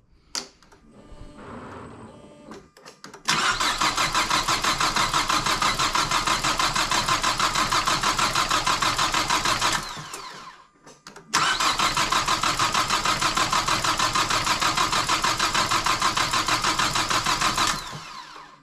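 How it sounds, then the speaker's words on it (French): A car with no petrol in the tank cranks on its starter motor in two long, loud, steady bursts with a short pause between them. The engine never catches, and no one speaks. "je vais voir si ça tourne au démarreur déjà"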